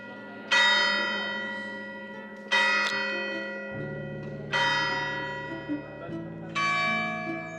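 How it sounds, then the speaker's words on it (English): Church bells ring out in San Marino, four resonant strikes about two seconds apart, each ringing on with a long decay over a low droning hum, with talk faintly beneath. "Even now, they're ringing the bells."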